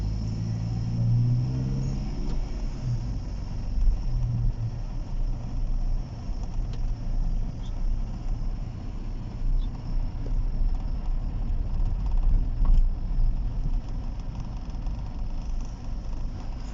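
Car driving slowly through narrow side streets of Riyadh, Saudi Arabia, a steady low engine and road rumble heard from inside, with no talk.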